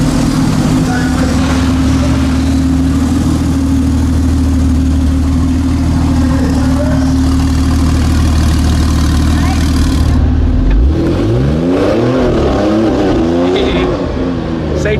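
Loud, steady engine drone of a W Motors FENYR Super Sport with a Kline exhaust lined up in a paddock before a hill climb, holding a constant idle-like tone, then changing abruptly near the end into a different, fluctuating engine sound.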